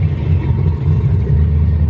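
A race car engine rumbles steadily at a track in Great Bend, Kansas, a loud, close, continuous low drone with no voices over it.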